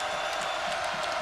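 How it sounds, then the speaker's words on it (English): A college basketball arena crowd at a Texas A&M versus Arizona game keeps up a steady, distant roar of cheering, a continuous wash of noise without distinct peaks. "And the crowd very much a part of things here."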